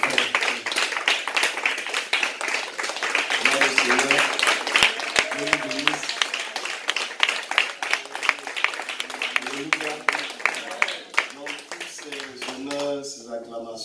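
A church congregation acclaims and claps for Jesus during a prophet's teaching service, with dense, steady applause and scattered voices calling out throughout.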